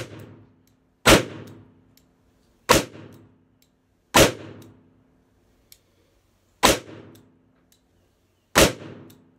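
A new 2020 Colt Python revolver fires .38 Special 158-grain +P rounds double action: five sharp, loud shots spaced about one and a half seconds apart, each ringing briefly before fading.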